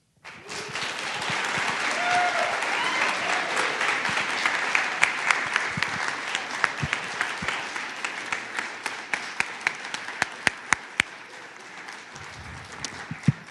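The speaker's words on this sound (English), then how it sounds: "I told you we were going to do some clapping." Audience at a Boys & Girls Clubs Youth of the Year event claps and applauds, a sustained dense round of clapping that thins toward the end into individual sharp claps.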